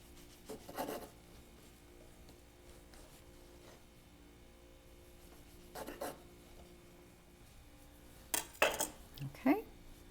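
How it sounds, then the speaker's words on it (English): A sharp serrated knife saws the crusts off bread slices for tea sandwiches, making a few short, quiet rasping strokes separated by long pauses. "Now I prefer to cut the crusts off the bread first to keep from wasting any filling"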